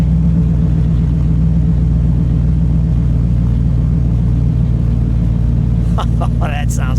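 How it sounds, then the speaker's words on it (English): A 1961 Chevrolet Impala's 348 V8 idles close by with a steady, deep low burble throughout, and a voice briefly speaks over it near the end. "Let me listen to it idle for just a second."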